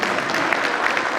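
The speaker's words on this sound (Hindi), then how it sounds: "एक बार खुद के लिए जोरदार तालियों के साथ अपना खुद का स्वागत करेंगे" An audience in a hall at a community gathering claps loudly and steadily, a dense burst of applause with no voices over it.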